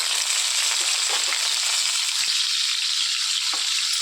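Washed pieces of dried fish fry in hot oil with a steady, dense sizzle and occasional faint pops and stirring taps, heard close with no voices.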